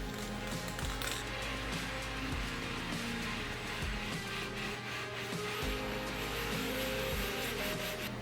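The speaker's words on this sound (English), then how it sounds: "so that should sand everything just perfectly flat" Steady rough scraping and grinding as a metal cylinder head is sanded flat on sandpaper, a continuous abrasive rubbing with a low rumbling undertone, close and fairly loud, no voices.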